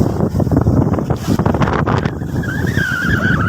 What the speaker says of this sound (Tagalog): May bagyo kasi kaya siguro ganito kalakas yung hangin.